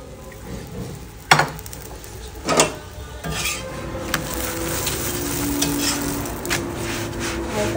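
Paratha lightly frying in a pan gives a steady, close sizzle, broken by a few sharp scraping and clattering hits from a spatula against the pan.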